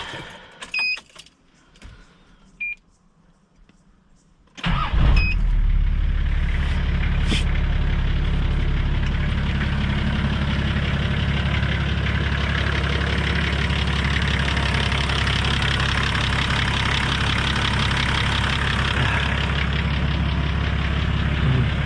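A Nissan Patrol's TD42 diesel engine cranks and fires after some handling clatter, then settles into a loud, steady, rumbling idle that runs on unchanged, close up.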